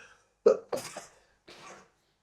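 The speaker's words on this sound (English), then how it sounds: "I sneezed." A sharp, loud sneeze bursts out, followed by a couple of smaller breathy sounds and a brief exhale, with silence in between.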